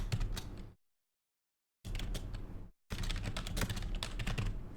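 Quick, clattering keystrokes on a computer keyboard come in two bursts with a short silent gap between them, close and clear with no talking.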